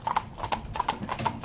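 Hooves of a pair of Lipizzaner horses clip-clop in a steady, even rhythm on a hard surface, close and fairly loud, with a faint whinny in the background.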